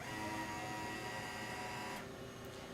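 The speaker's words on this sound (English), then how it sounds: "So we press nozzle start. So you do nozzle cleaning few times every day when you start up the machine." A 150-A machine runs its nozzle cleaning cycle, giving a steady, moderately loud mechanical whirr with a continuous tonal hum throughout.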